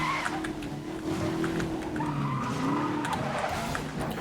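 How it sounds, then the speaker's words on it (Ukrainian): A car in Need for Speed: Most Wanted (2012) spins its tires in place. A steady skidding squeal rises over the engine's drone and continues without a break for several seconds, with no voices. "Пробуксовуємо на місці."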